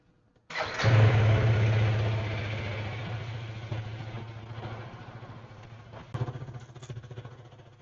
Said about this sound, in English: I'm starting the bike right now and let's go.